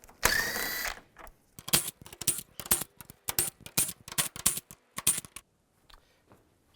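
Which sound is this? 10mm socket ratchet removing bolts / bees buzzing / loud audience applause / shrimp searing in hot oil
10mm socket ratchet removing bolts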